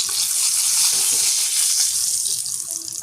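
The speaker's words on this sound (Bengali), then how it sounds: "পরোটা ভাজতেছি।" Paratha frying in a pan, a steady close sizzling hiss that runs unbroken and fairly loud, with no talking.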